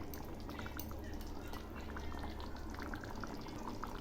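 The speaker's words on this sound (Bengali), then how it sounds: "মাংসগুলো তো সেদ্ধ হয়ে গেছে, আর অল্প একটু ফুটিয়ে নেব।" Mutton curry with pointed gourd simmering in a pot, a steady close bubbling and popping that runs evenly throughout with no talk over it.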